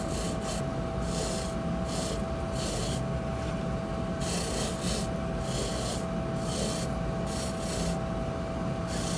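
A polishing wheel runs steadily against acrylic denture teeth under very light pressure, making a continuous close hum with a rasping, rubbing texture that swells and eases in short strokes.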